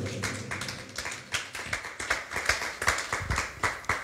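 Congregation clapping at a church service, a steady run of hand claps in quick rhythm, fairly close and continuous across the whole stretch.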